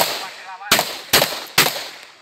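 Three sharp pistol shots crack out at a shooting practice range, spaced roughly half a second apart, each loud and close with a short ringing decay.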